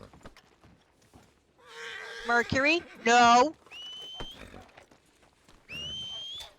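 A horse in a western roleplay video game, with snorting and clip-clop movement in short bursts and a couple of high, sustained tones, while people speak over it.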